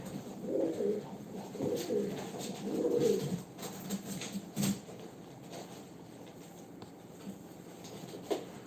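Several racing pigeons coo in soft, throaty, repeated phrases nearby, with light rustling and a brief thump, fading toward quieter background later.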